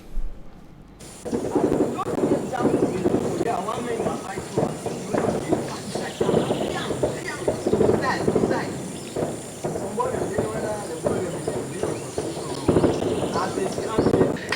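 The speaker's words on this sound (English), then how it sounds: "It is a sound of heavy shooting at a locality in Ekondo Titi subdivision called Bikora between the Cameroon military and separatist fighters." Heavy gunfire between Cameroon military and separatist fighters in the Ekondo Titi area, a dense run of sharp cracks and bursts repeating irregularly over several seconds, fairly loud and continuous after a brief quiet start.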